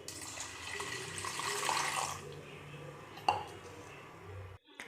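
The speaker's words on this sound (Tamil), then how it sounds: "இப்போ தேவையான அளவு தண்ணி விட்டுக்கலாம்." Water is poured over washed lentils (toor dal) in a kitchen vessel for sambar, a steady splashing flow lasting a few seconds, fairly close, with a small clink partway through.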